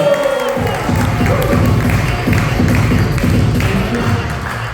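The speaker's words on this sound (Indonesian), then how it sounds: "Tepuk tangan dong." An audience at a seminar claps and cheers loudly, with rhythmic low thumps like stamping or coordinated clapping repeating through the dense crowd noise, up close.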